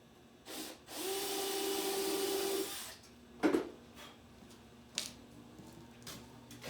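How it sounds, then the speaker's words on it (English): A power drill bores a small bolt hole through a mat on a track sled, whining steadily for about two seconds, then short bursts and a clunk follow in a quiet room. "I just drill a small hole in there for that bolt"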